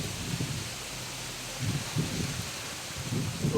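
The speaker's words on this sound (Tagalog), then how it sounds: "Grabe yung hangin tol." Gusty wind on a mountaintop in a possible storm, buffeting the microphone in low rumbling bursts over a steady hiss, with no voices.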